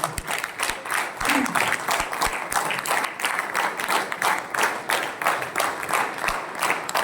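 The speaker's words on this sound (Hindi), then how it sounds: "तालियां बजाते हो तो अच्छे तरीके से बजाइए।" Crowd of attendees at a business seminar clapping in a steady, rhythmic round, fairly close and loud, lasting the whole stretch with no talking over it.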